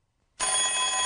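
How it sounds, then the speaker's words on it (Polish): A telephone bell in a children's Elmo show bursts in after a moment of silence and rings loud, close and continuous to the end, with no voices. "Ma dzwonek w swoim telefonie."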